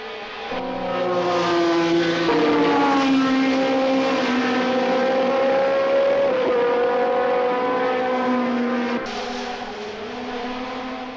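1976 Ferrari Formula 1 race cars start a race, a loud sustained engine roar with rising, shifting pitch as several cars accelerate away, with no talk over it.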